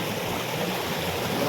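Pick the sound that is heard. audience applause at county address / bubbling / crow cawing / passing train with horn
bubbling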